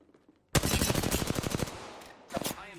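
Rapid automatic gunfire in Apex Legends bursts in suddenly after a quiet start, a loud, dense stream of shots that trails off before a second short burst near the end.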